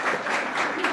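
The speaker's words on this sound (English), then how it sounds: "please give a round of applause to all the participants" An audience applauds an award winner at a startup pitch competition final, a dense steady patter of clapping filling the whole moment at close range.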